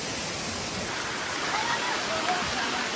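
Steady rain pours down in a dense, even hiss throughout, loud and continuous with no clear voices.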